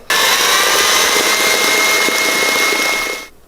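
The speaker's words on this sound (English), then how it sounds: "we're about to throw this back in the stand mixer" Stand mixer running on high while beating cookie dough with an egg mixture added, a steady loud whir from start to finish before it cuts off at the end.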